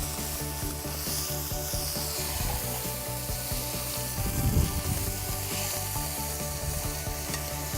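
Tri tip steak searing in a very hot pan gives a steady crackling sizzle, close and even throughout, with a few faint scrapes of stirring or moving the meat.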